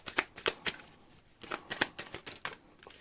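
A deck of tarot cards being shuffled up close, in quick rhythmic bursts of riffling flicks separated by short pauses, soft and intimate with no talking.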